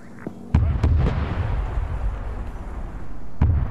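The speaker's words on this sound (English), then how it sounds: "Oh, that tank's taking some hits there." Explosions strike a tank in a WW2 shooter game, Soviet T-34s pushing against German defenders; a loud, dense run of blasts and booms with sharp cracks near the start and end.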